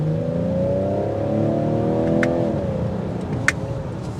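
A 2022 Ford Edge ST accelerates as heard from inside the cabin, its engine drone rising steadily in pitch for a couple of seconds before easing off, with a faint click or two near the end.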